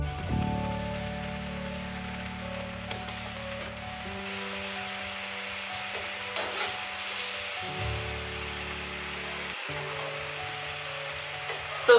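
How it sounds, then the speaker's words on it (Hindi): Battered cauliflower for gobi manchurian fries a second time in smoking-hot oil, giving a steady close crackling sizzle like rain, with a faint steady hum underneath. "और अब हम इसको एक बार फिर से फ्राई कर देंगे"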